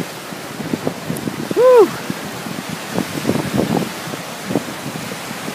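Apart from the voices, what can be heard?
wind gust whipping water on Cameron Lake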